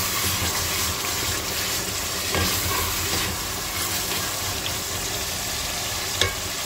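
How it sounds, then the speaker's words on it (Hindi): Masala spices fry and sizzle in a pan for beef paya, a steady, close crackling hiss with occasional stirring clinks throughout. "ये थोड़ा सा और मसाला भूनेंगे"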